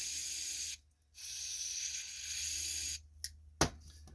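Close aerosol spray of cleaner hisses into a Champion front-tine garden tiller's carburetor in two long bursts separated by a brief pause, then a few short spurts and a sharp click.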